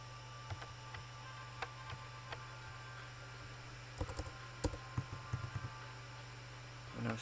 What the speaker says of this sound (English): Pressing the start button on my keyboard.